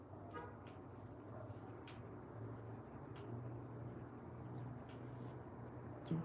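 Colored pencils scratch across paper in a steady, faint scribbling texture during a live drawing session, with low background hum and no talk.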